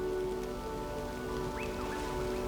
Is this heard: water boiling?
no